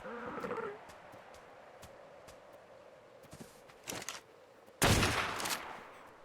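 A gunshot rings out in a video game, aimed at a penguin: a quiet backdrop of faint clicks and ticks, then a sharp loud report with a short noisy tail near the end.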